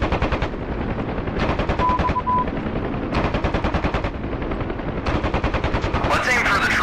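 Door-mounted machine gun on a Huey helicopter in the DCS combat flight game, firing long rapid bursts separated by short pauses, loud and close over the rotor drone.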